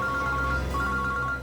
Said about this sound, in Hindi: ये मेरा ही फोन है सर